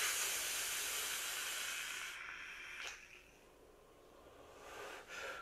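E-cigarette rebuildable atomizer with a 0.70 ohm coil releasing vapour, a strong steady hiss that cuts off sharply partway through, then a softer second puff near the end.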